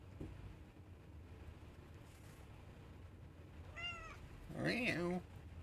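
A cat meows twice near the end, the second call louder and longer, over steady low background noise and faint chatter.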